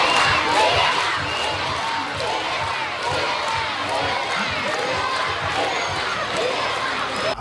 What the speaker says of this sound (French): Une foule compacte de jeunes écoliers dressés aux abords de la voie pour scander le nom d'Ibeka.